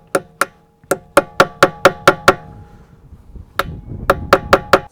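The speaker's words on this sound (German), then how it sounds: "Den klopfen wir mal mit dem Hammer leicht an und versuchen das dann zu lösen im Nachhinein." A hammer taps a T30 Torx bit into a screw on a delta4x4 Klassik_B wheel ring, giving sharp, close metallic knocks: a quick run of about ten evenly spaced strikes, a short pause, then several more taps.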